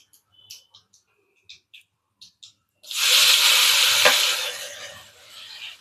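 Chutney ingredients with curry leaves are sautéed in a pan: a few faint clicks and taps, then a sudden loud hissing sizzle that holds steady for several seconds before easing slightly.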